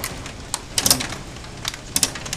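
Hailstones strike a house during a storm, a scatter of sharp ticks and clatters at irregular intervals, some in quick bursts, over a steady background hiss.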